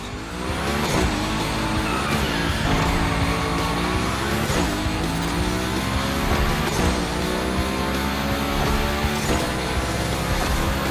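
In the Motorfest video game, a car slides through a gymkhana course, its engine revving and falling again and again with tire squeal, while a steady drone carries underneath.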